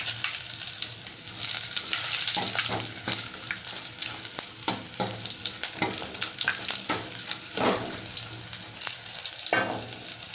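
Garlic and dried red chilies tempering in hot oil for Rayalaseema-style pappu charu, a steady close sizzle and crackle with repeated stirring scrapes of a spoon in the pan.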